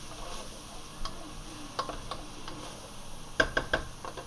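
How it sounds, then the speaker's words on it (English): Seasoned meat browning in a pan with garlic gives a quiet, steady sizzle, with a few light ticks and clicks of stirring scattered through it. "So right now I'm browning the meat."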